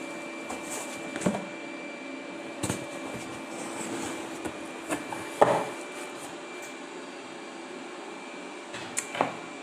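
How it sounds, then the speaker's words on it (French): A vacuum cleaner runs steadily in another room of a home, a low continuous hum under occasional nearby rustling and thumps of a parcel being handled. "il y a l'aspirateur qui fait du bruit derrière"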